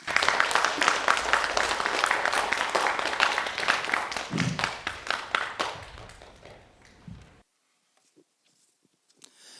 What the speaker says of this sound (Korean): 큰 박수 부탁드립니다.